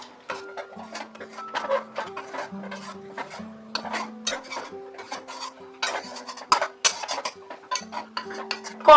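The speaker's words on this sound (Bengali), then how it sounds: "এইভাবে এটাকে আমি কাচিয়ে কাচিয়ে অ্যাড করে দিচ্ছি দুধের মধ্যে" A steel spatula scrapes thickened milk cream from the sides of an aluminium wok while rabri is made. Short metallic scrapes repeat in an uneven rhythm over a faint sustained tonal background, with no speech.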